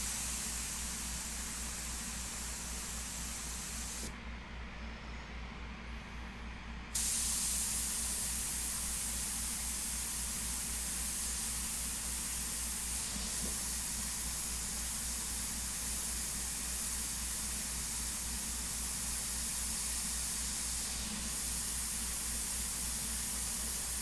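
Iwata HP-SBS airbrush spraying FW ink onto a portrait, a steady close airy hiss running continuously, with a brief change in tone partway through and no talking.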